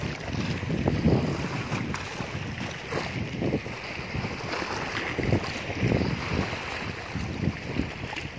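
Boats moored in a wave shelter harbour on Hòn Tre island in Kiên Hải, heard as a steady outdoor wash of wind and water with soft knocks and creaks, fairly loud and continuous with no talking.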